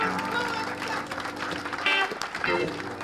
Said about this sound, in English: How about a great big round of applause?